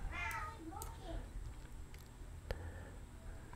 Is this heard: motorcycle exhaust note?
no